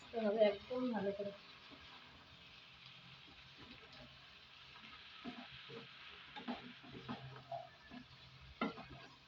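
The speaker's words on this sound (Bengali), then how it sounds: "এটাকে শুধু ভাজতে হবে, ভালো করে ভাজতে হবে, একদম ভালো করে।" Dried shrimp fry with spices in a pan, a quiet, soft sizzle broken by irregular scraping stirs, with a brief voice near the start.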